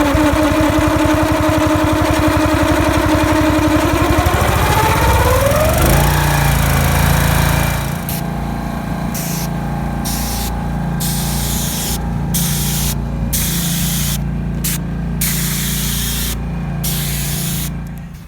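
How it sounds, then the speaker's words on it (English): A pump starts and sprays Blackmac asphalt driveway sealer along taped edging, a loud continuous hiss over an engine drone that shifts pitch partway through, then steady spraying broken by short pauses. "start up the pump, and I'm going to start applying the Blackmac sealer along the edging of the tape"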